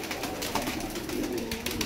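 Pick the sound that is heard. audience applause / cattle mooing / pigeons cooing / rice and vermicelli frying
pigeons cooing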